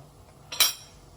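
A single sharp metal clink sounds as a utensil knocks against the pot while tom kha soup ingredients, including shallots, are stirred.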